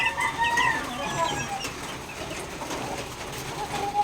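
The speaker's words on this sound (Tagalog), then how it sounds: "check naman natin mga kalapati natin sa taas" Birds in a coop: soft cooing of pigeons mixed with chicken clucks and chirps, a steady busy chorus with light rustling.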